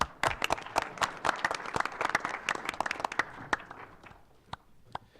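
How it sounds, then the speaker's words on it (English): A city council meeting breaks into a round of applause: many hands clap loudly and densely at first, then the clapping thins into scattered claps and fades out. "I think it's a round of applause. Let's do that."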